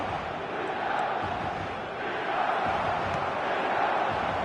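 A stadium crowd in a PS4 football video game roars steadily with a dense, unbroken wash of cheering, loud and sustained throughout without pauses.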